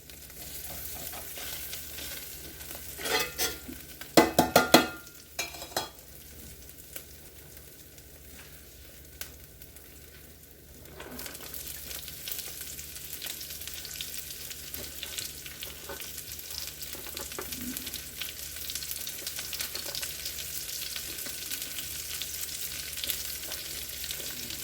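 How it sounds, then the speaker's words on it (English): Onions sautéing in a stovetop pan, dropped in with a few loud clattering bursts near the start, then a steady, moderately loud sizzle and frying hiss filling the rest of the clip with no talking. "We're just going to go ahead and throw the rest of the onions in there and"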